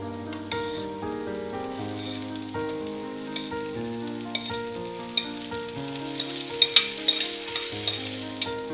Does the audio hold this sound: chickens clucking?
no